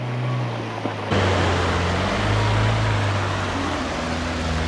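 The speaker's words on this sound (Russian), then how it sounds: "Но вода захлестывает на капот." Water surging and rushing over the hood of an off-road Dacia Duster wading through deep water, with a loud, steady roar of churning water over a low engine hum, becoming louder after a sudden jump.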